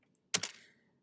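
A single quick keystroke clatter on a computer keyboard, sharp and close, with a brief second tap right after and a short fade, otherwise quiet.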